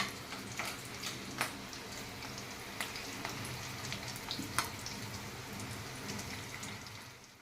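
Fish roe fritters frying in hot oil give a steady, soft sizzle with scattered pops and crackles throughout, no voices.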